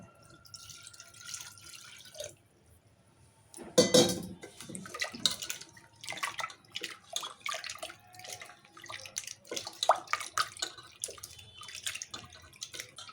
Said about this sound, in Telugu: వాటర్ పోసి వేసుకుందాం అనుకుందాం